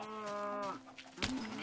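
Sheep bleating in the Minecraft video game on Xbox 360, a drawn-out harmonic bleat followed by a second shorter call, close and clear with no talk over it.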